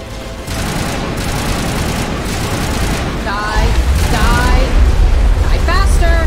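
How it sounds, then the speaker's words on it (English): Assault rifle gunfire in the Mass Effect video game, dense rapid bursts and booming shots, loud and continuous, with a voice talking over the fire. "Assault rifle."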